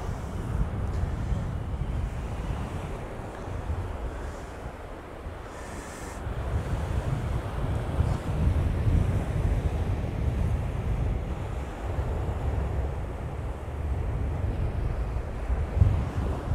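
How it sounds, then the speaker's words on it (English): Strong wind buffets the microphone on an east coast beach at Cleethorpes while surf rolls and breaks continuously in the background, rising and easing in gusts with no talking. "But if that wind picks up anymore, we might have to call it a day."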